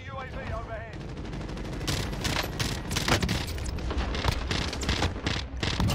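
Rapid sustained gunfire from the CARV.2 tactical rifle in the video game Warzone, dense bursts of loud shots with game effects, while a person talks over the action.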